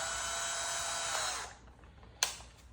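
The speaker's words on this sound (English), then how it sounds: "Take your time with the clips, take your time drilling the holes, because this is very important." A power drill bores holes into a 2024 Mustang GT hood, whining steadily at a high pitch for about a second and a half, then stopping, followed by a sharp brief click.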